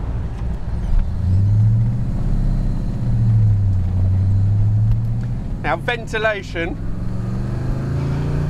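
De Tomaso Pantera V8 engine drones steadily through an open window of the moving car, a low rumbling hum running throughout while someone talks over it.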